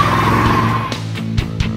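A Buick Electra 225 at a 2018 aftermarket trade convention revs loudly and close, its deep engine note rising and then dropping off, with no talking.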